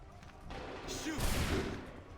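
A musket volley is fired on command in Assassin's Creed III, a dense crackling burst of many shots that swells and then fades over a second or so, surrounded by low game ambience.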